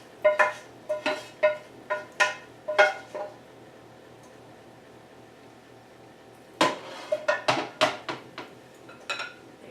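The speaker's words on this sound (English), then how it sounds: "I'm just going to drop it right into the bowl" Cooked chorizo dropped into a stone molcajete bowl, followed by a quick run of clinking utensil and dish knocks, a pause, then another burst of clanks, close and crisp without talking.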